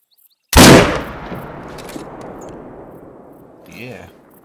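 A single loud hunting rifle shot booms in theHunter: Call of the Wild while aiming at a moose, followed by a long rolling echo that slowly fades, with a brief voice near the end.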